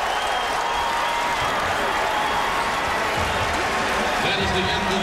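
Gonzaga fans cheer at a college basketball game against UConn at an arena in Hartford, with a continuous roar of crowd noise and some applause at the half while a commentator talks over it.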